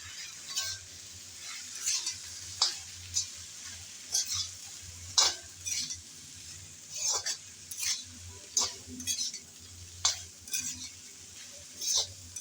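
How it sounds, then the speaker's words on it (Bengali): Taro stolons (kochur loti) fried with spices and salt, stirred in a pan: a steady low sizzle under repeated scraping, clinking spoon strokes at an uneven rhythm, close and moderately loud, with no talking. "সবগুলো মশলা দেওয়ার পর এখন নেড়ে চেড়ে ভালোভাবে ভেজে নিতে হবে।"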